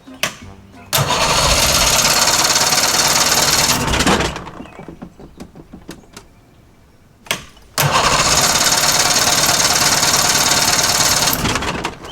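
Cranking of an old engine on a 63-year-old abandoned boat with a fuel-leaking carburetor, two long loud spells of harsh starter grinding separated by a quiet pause with clicks, close by, with people talking between.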